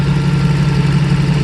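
A 1993 Mercedes 600SEC V12 idles steadily after a water pump replacement, a smooth, even low hum with a faint rhythmic pulse, close and alone without talk.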